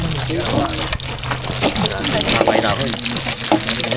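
Hot water pours steadily at a lakeside campsite at Moyie Lake, British Columbia, a continuous splashing rush heard close under people talking throughout.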